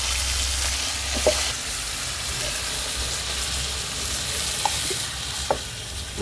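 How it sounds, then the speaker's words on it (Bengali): Meat sautéed for biryani on a rooftop gives a steady, broad hissing sizzle, close and continuous, with a few faint clinks of the stirring utensil against the pot. "তো মাংসটা কষানো হয়ে যাক"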